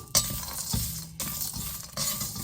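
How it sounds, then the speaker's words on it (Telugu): Spices sizzle in a pan for Telangana-style dawat mutton, a steady close hiss with the spoon stirring and clinking against the metal a few times. "వీటిని మనం వేయించుకున్నాం"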